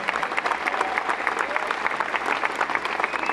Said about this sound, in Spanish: pido un aplauso gigante para un señor que puso sus pies en la luna